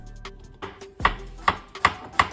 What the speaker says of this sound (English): Cut up the cucumbers.